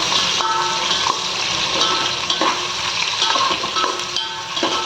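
Ten green chillies frying in oil in a pan for prawn biryani, giving a continuous loud sizzle with occasional stirring clinks, close up and with no talking.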